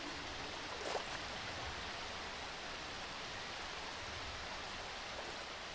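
Water flows in a steady, even hiss from a stream in RLCraft, a Minecraft modpack. The rush is soft and continuous, with a faint tap near the start.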